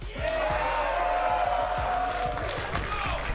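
A tournament crowd at a Street Fighter 6 event cheers and whoops loudly, a dense sustained roar mixed with scattered claps and thumps throughout.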